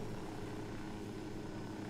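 Helicopter flying in the video game Ghost Recon Wildlands, a steady low rotor and engine drone that stays constant and fairly faint throughout, with no talking.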